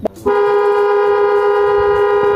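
A single loud, sustained car horn blast sounding close by after a brief thump, holding steady to the end.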